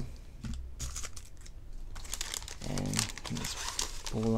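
A Pokémon Johto first partner card pack being cut open, with close crinkling and crunching of the foil wrapper in bursts, and a person talking briefly over the handling.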